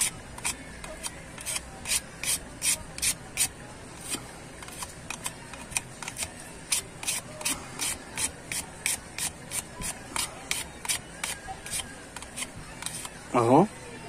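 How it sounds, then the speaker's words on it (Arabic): A blender knife is sharpened on fine 360-grit sandpaper, giving a steady series of short, rhythmic rasping rubs, moderately close, while someone talks quietly over them. "دي صنفرة 360 ناعمة"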